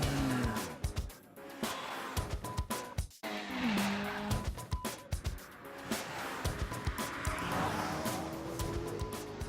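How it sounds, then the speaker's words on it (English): Race car engines at a NASCAR event at Pocono, loud roaring revs and passing whines with rising and falling pitch, squeals and bursts of noise layered over a busy track ambience. "when they're revving the engine in there"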